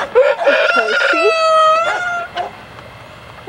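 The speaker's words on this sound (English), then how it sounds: "And over here is a rooster." A backyard rooster crows loudly and close by in one long drawn-out call, with a few clucks from the flock around it and no talk.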